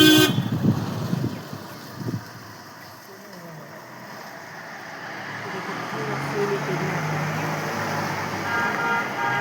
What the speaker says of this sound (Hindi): और ये देखो जाने लग गई गाड़ी